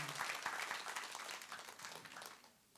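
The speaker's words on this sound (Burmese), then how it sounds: "လက်ခုပ်တီးပြီးတော့" A church congregation applauding at a thanksgiving service, a dense, fairly soft burst of many hands clapping together that fades toward the end.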